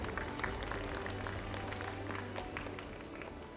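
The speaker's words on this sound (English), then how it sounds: "Let's give him a warm round of applause" Applause from the audience greeting a speaker at the MTE 2024 opening ceremony, a steady, even spread of clapping heard across the whole stretch with a low hum beneath.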